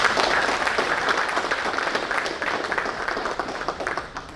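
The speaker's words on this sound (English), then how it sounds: "with a great round of applause." A room full of people claps steadily in warm, sustained applause that slowly tapers off.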